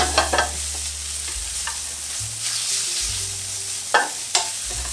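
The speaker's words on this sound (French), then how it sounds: "Je vais faire suer mes échalotes" Shallots and apple peelings sizzle steadily in butter in a pan, a close, even frying hiss with a few light stirring knocks and no talking.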